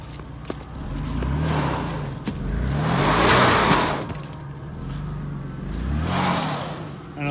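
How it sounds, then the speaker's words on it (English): A Jeep does a burnout on plywood laid in mud, its engine revving hard in repeated surging waves over roughly seven seconds, loud and close, with spinning tires and no speech. "just do a massive burnout here"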